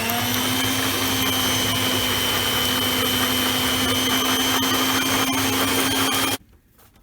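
An electric mixer runs steadily and loudly, whirring through grated coconut, sugar and salt, then cuts off abruptly near the end.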